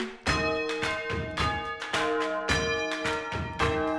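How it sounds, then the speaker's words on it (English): Bells ring loudly in a quick sequence of clear, resonant strikes, each note overlapping the fading ring of the last, close and without voices. "and 11 bells a-ringing."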